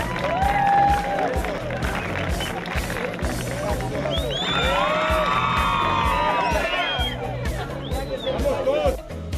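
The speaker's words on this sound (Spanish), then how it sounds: "¡Un aplauso!" Students outdoors at a campus civic culture event clap and cheer, with whoops and shouts rising over a lively babble of voices and steady applause.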